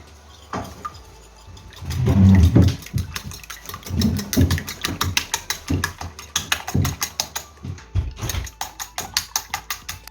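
A kitchen mixer whirs and clatters through salted minced meat for lula kebab, with its motor rising and falling in uneven bursts and rapid rhythmic knocking.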